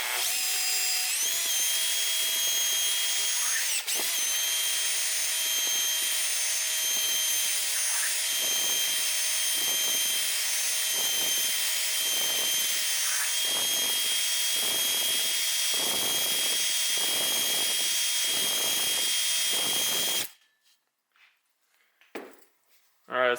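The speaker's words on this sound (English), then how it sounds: "we want to do medium speed on the drill, and we want to do full strokes, so top to bottom of the cylinder" A drill drives a cylinder hone through the bore of a CRF50 cylinder, whining loudly and steadily with rhythmic pulsing from full up-and-down strokes for about twenty seconds, then cutting off into quiet handling noises.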